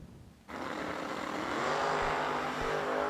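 Drag race car roaring hard at launch on a raceway, loud sustained engine note jumping in after a brief quieter lead-in and holding steady.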